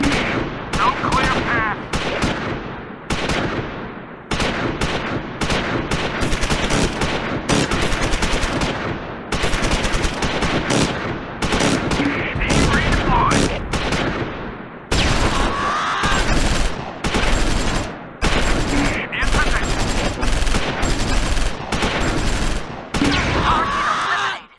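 Machine gun fire in Close Combat 4, a Battle of the Bulge fight at Houffalize: dense, loud bursts of automatic gunfire in rapid succession throughout, with short gaps between volleys.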